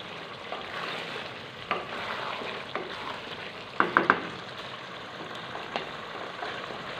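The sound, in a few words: chicken, dal chana and whole chillies frying in a pan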